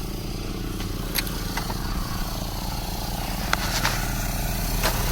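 An air compressor runs to blow out a lawn sprinkler system, giving a steady, droning motor hum with a few faint clicks and knocks over the top, continuous from start to end.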